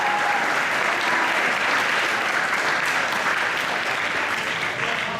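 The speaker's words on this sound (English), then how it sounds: "Please give a round of applause for the color guard." Sustained round of applause from the audience at a high school JROTC dining-in, honoring the color guard; even, full clapping that continues steadily for several seconds.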